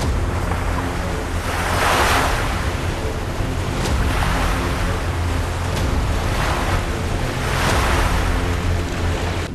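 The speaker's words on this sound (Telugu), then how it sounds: "ద్వీపం దగ్గరకు చేరుకునే కొద్దీ సముద్రపు అలలు మరింత ఉధృతమవుతూ కనిపించాయి." Rough sea waves surge near an island, with loud, repeated crashing swells rising and falling every few seconds under constant wind rumble and boat noise, and no voices.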